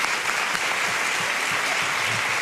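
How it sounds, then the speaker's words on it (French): Studio audience applauding on a French TV talk show, a steady dense wash of clapping that fills the whole stretch at close range with no voices over it. "Est-ce qu'on peut l'applaudir"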